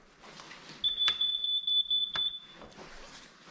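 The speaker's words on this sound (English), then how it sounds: "There's the fire alarm going off." A smoke alarm in an abandoned 1970s Tudor house sounds a shrill, high-pitched steady tone lasting over a second, punctuated by sharp clicks, against faint background noise.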